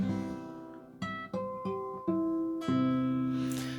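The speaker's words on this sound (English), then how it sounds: "I use harmonics a lot in my arrangements" A series of clear, ringing guitar harmonics, about six bell-like chimes struck one after another and left to sustain, played softly and close up.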